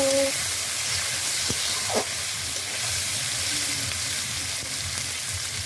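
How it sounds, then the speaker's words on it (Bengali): Capsicum and peas for fried rice fry in a pan with a steady broadband sizzle and hiss, joined by a couple of faint clicks and a brief knock from stirring, with no speech. "সবগুলো এখন নাড়িয়ে দিয়ে ভালো করে ভেজে নিব"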